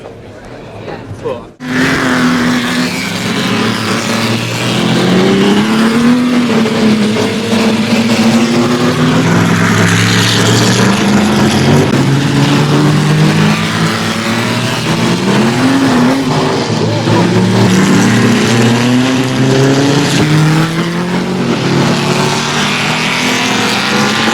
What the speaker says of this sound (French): la course des voitures d'avant-guerre est terminée